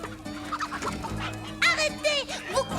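Cartoon chickens cluck and squawk in a henhouse, agitated bird calls rising over a low steady hum and some background music, getting louder and busier in the second half.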